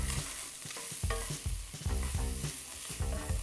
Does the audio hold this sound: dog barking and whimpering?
no